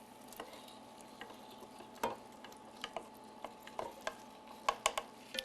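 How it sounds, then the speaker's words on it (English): Cooked seafood is stirred into a risotto in a pan, giving quiet, soft sizzling with a series of light clicks and scrapes from the spoon against the pan. "we add all of that seafood that we cooked"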